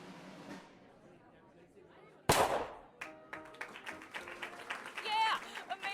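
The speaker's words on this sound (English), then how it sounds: "For with but a single bullet, I will pluck it from the very air." A single sharp gunshot cracks loudly in the video game Rosewater, a sudden bright burst that stands out after quieter sounds and is followed by scattered clattering and chiming effects.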